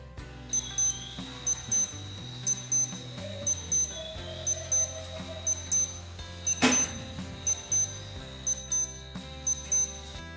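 Skmei 1381 digital watch alarm sounding in regular clusters of sharp electronic beeps, close by and moderately loud, with no talking.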